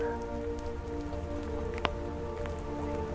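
Rain pattering steadily through a forest in Sitka, Alaska, a soft continuous patter of drops with a faint tonal hum underneath and one brief tap, with no one speaking.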